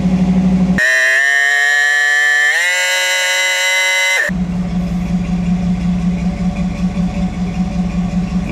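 A Chevrolet C10 pickup with an overheating problem revs hard, settling into a loud, steady high-pitched whine that climbs once before dropping back to a rough, throbbing idle.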